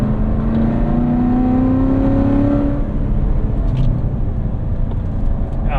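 A 2016 Corvette C7 Z51 revs hard in track mode with its exhaust valve open, a loud, steady engine roar whose pitch climbs, then settles into a lower rumble.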